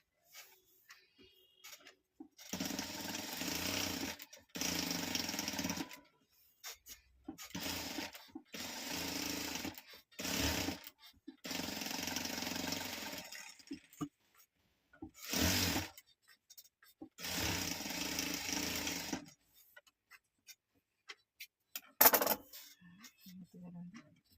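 A sewing machine stitching fabric for a small tote bag runs in several separate bursts of rapid mechanical clatter, with short quiet pauses between them and a sharp click near the end.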